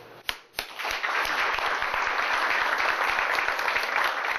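Dokdo island guard officers and staff applaud the LG Hausys team. Many hands clap in dense, sustained applause that builds within a second and holds steady, close by.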